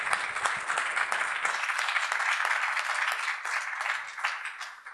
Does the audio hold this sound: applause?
yes